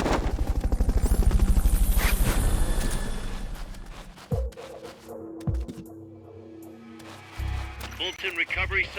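Rhythmic thumping of helicopter rotors in Metal Gear Solid: Peace Walker, loud at first then fading, followed by scattered clicks and muffled game sounds with a voice announcing a Fulton recovery subject onboard.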